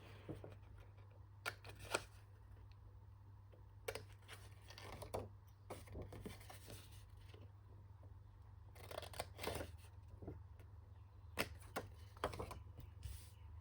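Scissors snip small corner pieces off a square paper coin envelope in a craft setting, with a few soft, sparse cuts and paper rustles spread across a quiet stretch over a steady low hum.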